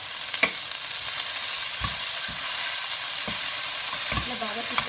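Gongura sorrel leaves frying in a pan while being stirred, a steady close sizzle with occasional scraping clicks of the spoon against the pan, no talking.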